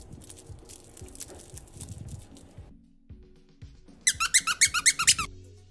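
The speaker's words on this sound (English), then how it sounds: "The toy design of Squeaky belly and Crinkle ears." Squeaker inside the belly of a plush bunny and monkey dog toy, about eight quick, loud, evenly spaced squeaks near the end, after a stretch of soft rustling and handling.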